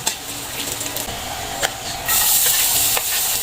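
Onion, garlic and ginger sauté in a pan at the start of a crab-in-coconut-milk dish. The sizzle is close and continuous, with a few stirring clatters, and it swells louder partway through. No speech.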